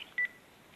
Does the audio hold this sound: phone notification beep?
yes